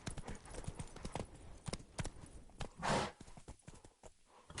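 Roach, a horse in a video game, trots along with rhythmic, crisp hoof clops, and a short burst of a breathy snort or rush sounds midway.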